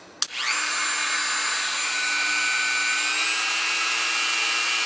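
A Dremel 4300 rotary tool clicks on and spins up into a loud, steady high-pitched whine that holds at speed, its pitch shifting slightly near the end, with no voices.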